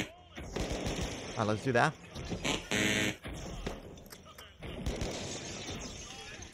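Bursts of FCAR rifle tap fire in the shooter game The Finals, short rapid shots in clusters with game effects, mixed with someone talking over them.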